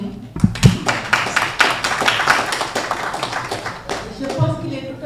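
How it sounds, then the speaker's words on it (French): Conference audience applauding in a hall, a burst of dense clapping with sharp individual claps near the start, rolling on steadily with some speech-like sounds mixed in before tapering off. "Je pense qu'il mérite des applaudissements plus nourris."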